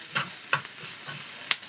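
Peanuts stirred in a hot pan as they fry, with a few soft scraping strokes over a faint sizzle and one sharper clink near the end, close by and with no talking.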